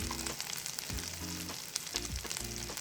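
Ground ginger and garlic sizzle in melted butter, a loud close frying crackle with steady spatter and brief pulsing bursts as the pan is stirred.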